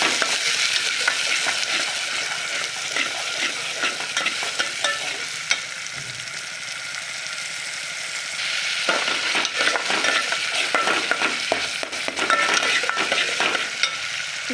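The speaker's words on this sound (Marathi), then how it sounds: "आणि ही पेस्ट केलेली टाकायची आणि मस्तपैकी हलवून घ्यायचे आता" Ground spice paste stirred into a sizzling ridge gourd curry in a pan: a steady broadband sizzle with frequent scraping strokes of the spoon, close and fairly loud, growing slightly busier toward the end, with no talking.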